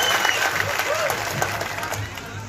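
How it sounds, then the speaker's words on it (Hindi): Audience at an Assam election campaign rally clapping in welcome, a loud dense burst of applause with crowd noise and some voices mixed in. "उनके लिए ताली बजा के स्वागत करिए"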